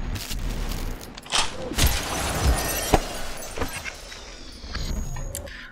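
Shattering glassy impacts and crunchy breaks from an enemy being smashed in the video game Superhot, several bursts of clatter over a steady game background, with no talking.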